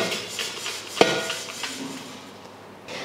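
Roasted masala for sambar is scooped from a pan into a vessel: soft scraping broken by one sharp metal clank near the start, then quieter scuffing, with no voices.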